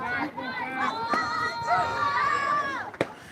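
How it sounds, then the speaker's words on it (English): Kids cheering in the dugout at an 11U travel baseball game, a burst of high young voices shouting and whooping together, fairly close, with a sharp clack near the end. "Now you got the kids going cheering in the dugout"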